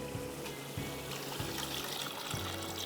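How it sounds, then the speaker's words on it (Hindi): Water poured into a pot of onions that have been frying for pulao, about two cups, giving a soft, fairly quiet trickling and splashing with a few brief bursts. "तो अब मैं इसमें पानी डाल रही हूँ"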